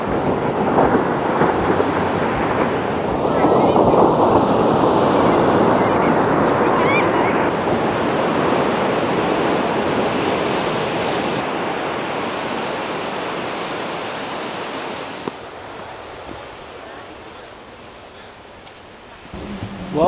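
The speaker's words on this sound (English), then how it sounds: "The waves are really big." Big ocean waves crash and roar against the shore at Carmel-by-the-Sea in a continuous, loud wash of surf, with some wind buffeting the microphone.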